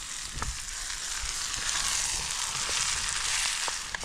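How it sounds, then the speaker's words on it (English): Mince browns in a Trangia camping pan with a dense, continuous hiss of sizzling fat, close and fairly loud, with a few faint scrapes of stirring under it and no talk. "So we'll brown this mince"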